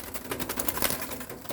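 Pet pigeons or doves coo softly at home in a rapid, fluttering series of throaty pulses, fairly close and moderately loud. No one speaks.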